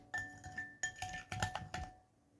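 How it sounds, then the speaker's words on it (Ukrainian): A spoon clinks repeatedly against the sides of a bowl while stirring in sugar, with about half a dozen bright, close taps in an uneven rhythm. "Гарненько раз мішати."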